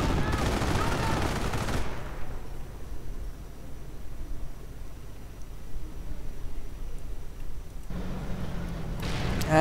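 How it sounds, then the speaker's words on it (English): Artillery fire in a World War II strategy video game with German panzer divisions, heard as a dense, continuous rumble of distant blasts that drops back briefly mid-clip before returning. "And artillery is heard somewhere."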